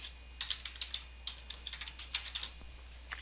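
Quiet clicking of a computer keyboard as a username is typed, with short bursts of keystrokes, a pause, then another flurry, close and faint with no voices.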